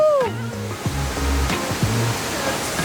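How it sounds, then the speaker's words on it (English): Steady roaring wash of a waterfall in heavy rain in the Columbia River Gorge, Oregon, loud and continuous, with a few brief low thumps and faint tones mixed in. "Between the rain coming down and the waterfall mist, we are getting soaked right now."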